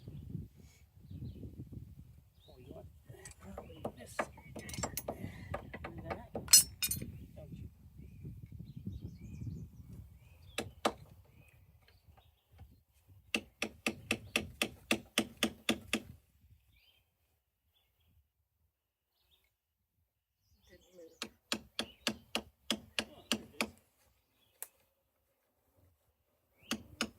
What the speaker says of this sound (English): you get a little hammer and a screwdriver and you tap it one way and then tap it the other way